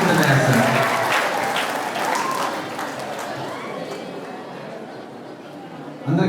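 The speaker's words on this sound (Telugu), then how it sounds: "గట్టిగా చప్పట్ల మధ్య ఆహ్వానిస్తున్నాను" Loud applause from a crowd welcoming a junior college principal at a chess tournament event, starting strong and gradually fading over several seconds with some chatter mixed in.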